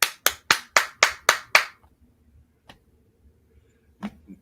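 A person claps hands seven times in a steady, even rhythm, imitating a football coach on the sideline; the claps are sharp and close, followed by quiet with a few faint knocks.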